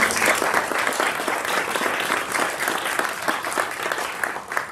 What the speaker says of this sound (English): Please join me in a round of applause for these outstanding.